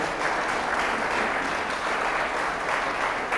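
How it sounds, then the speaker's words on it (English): Steady, dense applause from an audience at an awards ceremony for hunting and outdoor media, sustained and even throughout with no voices standing out. "We can clap for Dan, who's here too."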